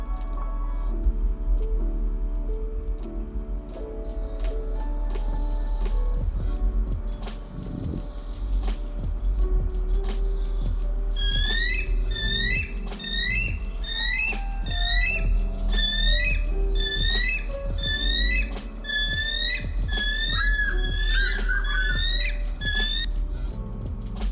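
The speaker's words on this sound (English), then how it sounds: "You want to see what an eagle really sounds like?" A bald eagle gives a long run of thin, high chirping squawks in rapid repeated bursts, loud and close over a steady low rumble and scattered ticking.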